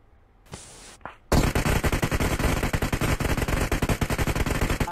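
Rapid automatic gunfire in Battlegrounds Mobile India on the Erangel map erupts after a couple of short electronic tones, a dense, loud burst of shots continuing steadily.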